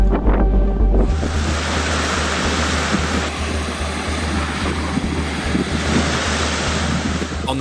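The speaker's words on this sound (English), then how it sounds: "it's a little chilly with the wind coming off the glacier" Strong wind blows off a glacier near a lake in the Jasper mountains, a loud, steady outdoor roar with heavy buffeting on the microphone and no talking.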